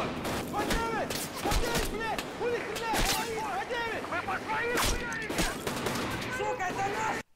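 Gunfire from a raid film set in Escape From Tarkov: dense, sustained bursts of rapid shots and sharp cracks filling the whole span, loud and close, with shouted voices mixed in throughout.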